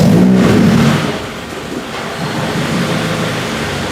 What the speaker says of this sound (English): So the car starts up